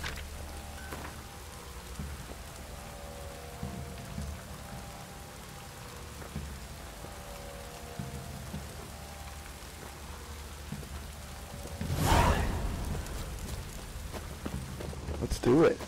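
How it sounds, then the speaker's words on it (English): Steady rain pours down in The Witcher 3, a constant hiss of a downpour filling the whole stretch, with a heavier gust or splash swelling near the end and faint game effects and voices underneath. "Mages were biting on account of this downpour."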